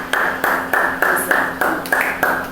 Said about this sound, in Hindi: इधर सामने यीशु के लिए ताली बजाओ